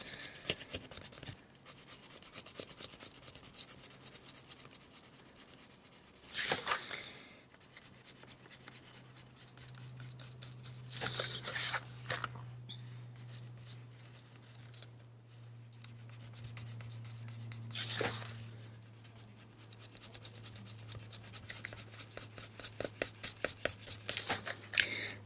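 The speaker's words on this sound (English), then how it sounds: "I'm using a very light touch to apply the colored pencil here on top of the acrylic paint" Colored pencil strokes over dried acrylic paint, a continuous soft scratchy rasp applied with a light touch. Brief pauses break it, with a low steady hum underneath.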